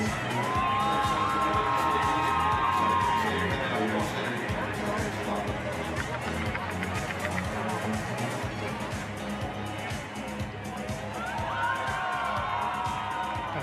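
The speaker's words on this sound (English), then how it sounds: "Teammate applauds her down." Spectators at a para alpine skiing downhill race cheer, whoop and applaud as a skier comes down, a dense continuous crowd roar at some distance with a commentator talking over it.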